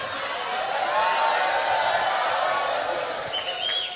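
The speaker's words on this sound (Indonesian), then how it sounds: "Ngono ya tepuk tangan." An audience at a humorous Islamic sermon by Kh. Anwar Zahid applauds as a dense, steady wash of clapping from a large crowd, with faint laughter mixed in.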